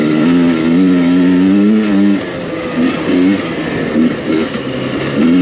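A 2023 Husqvarna TE300i two-stroke dirt bike engine revs loud and close during a ride. A sustained buzzing drone rises and falls, then breaks into shorter throttle blips toward the end.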